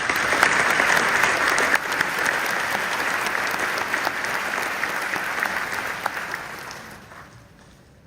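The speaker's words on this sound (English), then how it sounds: "Let's have another round of applause." A graduation ceremony audience gives a long round of applause. The dense, even clapping holds steady, then thins out and fades toward the end.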